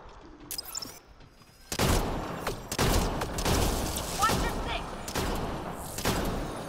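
Rapid pistol fire from Apex Legends rings out in loud, sharp bursts that repeat irregularly over several seconds, following a quieter lead-in.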